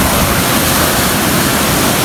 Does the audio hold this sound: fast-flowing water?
yes